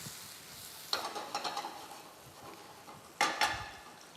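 Gnocchi and tomatoes tossed in a sizzling pan: a quiet fry is broken by two bursts of rattling, scraping movement as the food shifts against the metal, close by and with no voices.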